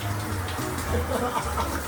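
Shower running aboard a first-class airplane cabin, a steady hiss of spraying water mixed with low cabin rumble, continuous and close, with no one speaking.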